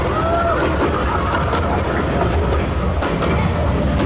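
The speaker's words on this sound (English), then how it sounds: "Something about a train ride at Christmas that I really like." A theme park train ride at LEGOLAND Windsor during Christmas rumbles and clatters steadily along its track, with a continuous close rolling noise and faint voices in the background.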